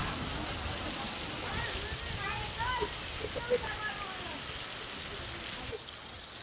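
Rain falling steadily on a roof during a misty afternoon shower makes a dense, even hiss throughout. Faint voices murmur underneath.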